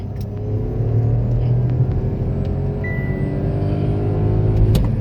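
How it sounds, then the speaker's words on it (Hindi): Two Skoda Kushaq cars, a 1.0 with DCT and a 1.5 with DSG, on a 400-metre drag strip. A steady, loud engine rumble holds evenly throughout, without a distinct surge of acceleration. "भाई DCT का और DSG का लॉन्च ये देख लो गाइस"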